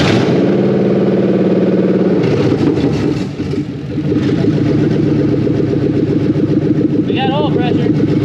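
A Ford F100 with a swapped-in Coyote engine cranks and catches, then settles into a steady, loud idle up close while people talk over it.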